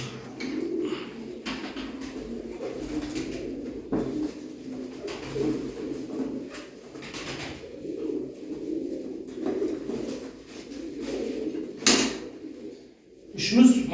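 Pigeons cooing close by in a low repeated murmur, with scraping and fluttering movement sounds and a few sharper knocks near the end.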